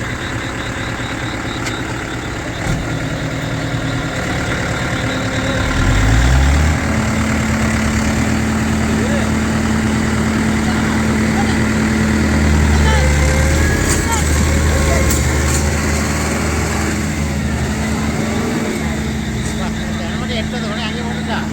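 A tractor engine runs steadily while the tractor is stuck in mud, a loud, continuous low rumble with a brief rev around the middle and some background voices mixed in.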